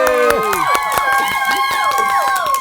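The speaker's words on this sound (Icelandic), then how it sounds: "Mér finnst að allir krakkar á öllu Íslandi og ef þeir eru í útlöndum eiga að klappa fyrir jólasveinunum" Children clapping and cheering loudly for the Icelandic Christmas lads, the jólasveinar, a dense burst of claps mixed with excited high-pitched shouts and whoops throughout.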